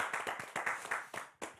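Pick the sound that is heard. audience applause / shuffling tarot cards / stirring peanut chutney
audience applause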